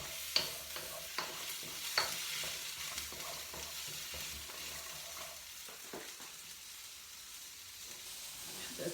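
Thinly sliced carrots stir-fry in a pan over medium heat with a soft continuous sizzle, a few clinks and scrapes of the utensil early on, and gentle stirring through the rest, fairly quiet and close.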